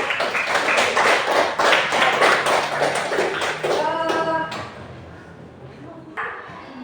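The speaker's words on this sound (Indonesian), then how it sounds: "Ibu kasih aplaus yang luar biasa" A classroom of students claps together in a dense burst of applause for about four seconds before it thins out and stops, with a voice speaking briefly as the clapping fades.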